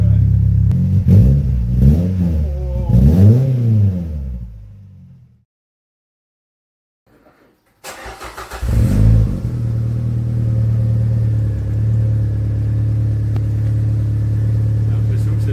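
A Peugeot 206 GT with a tuned exhaust revs several times in rising and falling sweeps. It cuts out briefly, then restarts and settles into a loud, steady, deep idle rumble close by.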